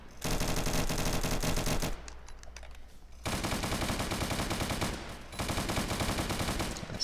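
Rapid bursts of video-game automatic gunfire crackle loudly in two long runs, broken by a quieter gap of scattered shots, with no talk.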